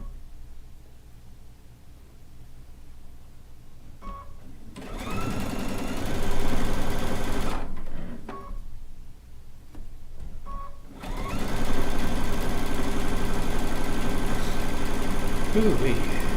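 A home sewing machine runs in bursts, stitching rag quilt pieces together, with steady mechanical whirring that stops and restarts between loud stretches, near and clear with no talk over it.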